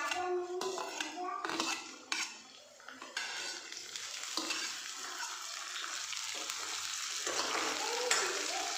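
Garlic and green chili fry with lightly browned onions for arbi masala, with spoon clatters against the pan early on giving way to a steady close sizzle with ongoing stirring.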